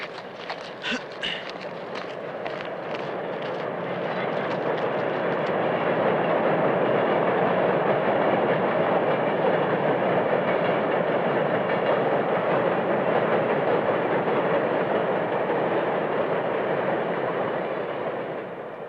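A train rumbles across a wooden trestle bridge, a steady loud roar of wheels and cars that swells in from a few early clacks and holds close for the whole stretch before easing slightly at the end.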